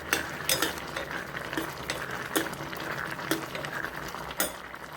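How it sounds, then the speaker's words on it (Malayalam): Olan curry bubbling in an open pot on the stove, a steady low simmering hiss broken by a few sharp clinks and scrapes of a utensil against the pot, with no talk. "ഇപ്പോൾ നല്ലതുപോലെ തിളച്ചു."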